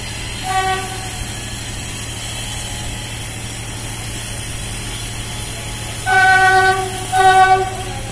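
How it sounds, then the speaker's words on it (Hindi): A locomotive draws into Mohibullapur railway station under a steady engine drone, sounding its horn in a short toot early on and then two louder blasts near the end. "आप देखिए मोहिबुल्लापुर स्टेशन पर एक और लोको आ रहा है।"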